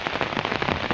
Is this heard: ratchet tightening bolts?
no